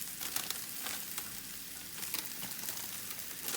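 Spinach wilts in a pan with mushrooms, making a dense, even crackling sizzle that fills the whole short stretch at a moderate level, with faint stirring underneath.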